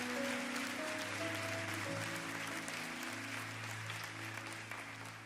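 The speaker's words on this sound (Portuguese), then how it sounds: "Diga amém e aplauda ao Senhor Jesus." A church congregation applauds steadily at a worship service, a dense wash of clapping from a large room with a sustained keyboard chord ringing underneath.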